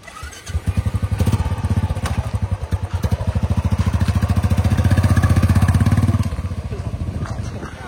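A motorcycle engine runs close by near Kaziranga, its rapid, steady pulsing growing louder and fuller as it revs midway, then easing back to a quicker idle-like chug.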